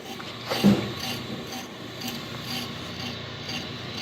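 A Hunter lathe machines a brake drum, producing a continuous rough scraping rasp of the cutter at moderate level, with a brief louder scrape early on.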